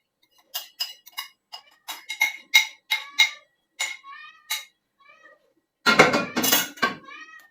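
Several cats meow for food, a string of short, insistent meows one after another, close and clear in a quiet room, ending in a louder, longer burst of cries.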